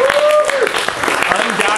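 A live audience at a campfire tour talk breaks into applause, a close, busy patter of clapping hands, while a few voices rise through it and a sustained whistle or tone sweeps briefly near the start.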